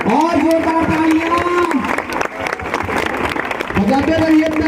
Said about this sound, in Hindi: बजाते रहिए, तालियां।